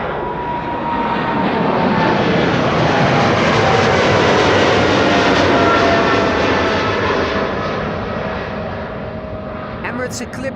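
Emirates airliner taking off at Amsterdam Schiphol Airport, a loud broad jet roar that swells and holds steady for several seconds before slowly fading as it climbs away.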